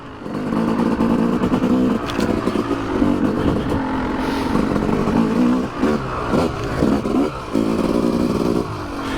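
A Yamaha YZ250 dirt bike engine pulls steadily through the gears on a trail, loud and continuous, with some clatter and no talking.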